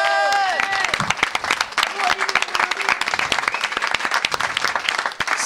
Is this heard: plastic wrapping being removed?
no